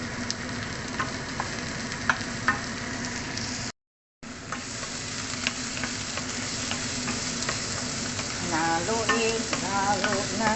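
Chicken and broccoli stirred in a hot frying pan, with steady loud sizzling and frequent scraping clicks of the utensil, a brief dropout midway, and the frying swelling louder toward the end.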